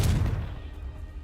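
A single sharp blast from the Confringo fire spell in Hogwarts Legacy hits loudly at the start, then decays over about a second into a low rumbling tail.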